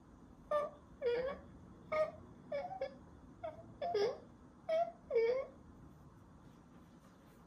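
A vocally made sound effect for a rusty, creaking moving sign: a series of short, wavering moaning creaks, about nine in irregular rhythm, close and fairly quiet, imitated by a human voice.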